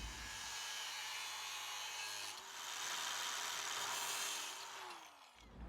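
Power drill boring a 4.5mm hole through two pieces of steel hinge from a Mercedes R107 boot, a faint steady whirring grind with a brief dip partway through and a spin-down at the end.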